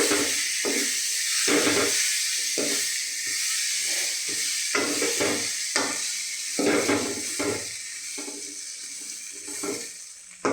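Steady frying hiss over low heat with repeated scraping strokes of a spoon stirring chickpeas in a pan, close and rhythmic, no voices.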